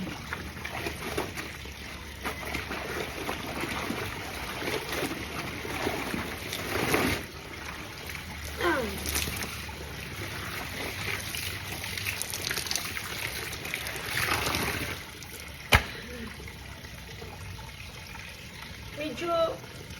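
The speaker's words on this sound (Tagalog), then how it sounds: "Malakas ang tubig dito." Water rushing steadily and strongly close by, a continuous roar with splashy surges, and a voice speaking occasionally over it.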